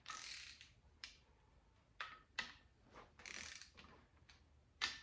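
A ratchet wrench loosening cylinder head bolts on a 2010 Subaru Forester engine during a head rebuild, heard as several separate bursts of clicking and clattering spread irregularly across the moment, moderately close and fairly quiet, with no talk.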